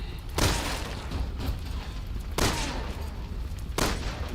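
Three sharp video game gunshot bursts from Resident Evil 6 ring out a couple of seconds apart, loud against a rumbling background.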